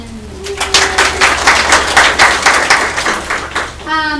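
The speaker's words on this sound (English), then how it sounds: "Give Susan a round of applause" A group claps at a sales meeting to welcome a new team member, a steady burst of applause in a room, with a voice briefly heard before it and a bird-like cooing sound near the end.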